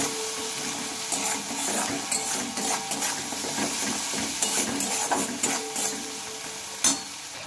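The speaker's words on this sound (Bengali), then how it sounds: "এখানে দিয়ে নেব 1 চামচ মতো বাটা মশলা, আর এটা ভালোভাবে কষিয়ে নেব" Spice paste with salt, turmeric and chili powder sautéing in a pan for a bottle gourd curry: a steady close sizzle broken by scraping stir strokes and a few sharp clinks, with no talking.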